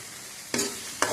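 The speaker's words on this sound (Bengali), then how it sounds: "আলুটা একটু ভেজে রাখছি" Potatoes fry in a pan for a Bangladeshi pangas fish bhuna, giving a steady low sizzle broken by two sharp, close stirring scrapes.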